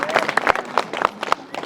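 Audience applause and cheering for a young woman poet from Chhattisgarh at a Hindi poetry gathering, a short burst of clapping with repeated sharp claps over crowd noise.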